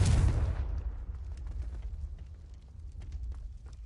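A Confringo blasting spell explodes in Hogwarts Legacy: a loud, sudden boom with a broad crack at the start, then a long rumbling tail that fades slowly over several seconds.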